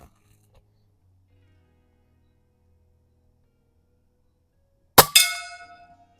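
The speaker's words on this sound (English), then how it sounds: "Let's hit the gong." An airgun pellet strikes a steel gong target once, giving a sharp metallic clang that rings out and decays over about a second after long near-silence.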